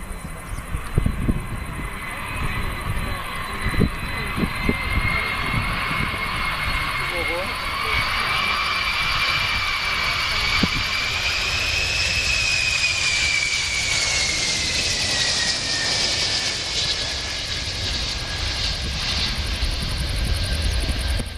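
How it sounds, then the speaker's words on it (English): A jet airplane roars past, its engine whine rising and sweeping in pitch as it passes, loud and sustained over some background voices. "This plane is flying very close to the ground."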